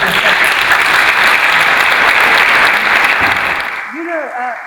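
Sustained, loud audience applause at a Western Balkans business summit on gender equality, steady clapping from a large crowd that fades out near the end.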